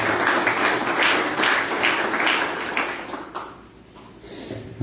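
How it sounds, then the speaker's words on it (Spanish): A church congregation bursts into loud applause during a religious teaching, many hands clapping together before the sound thins out and fades toward the end. "Denle un fuerte aplauso a nuestro Dios"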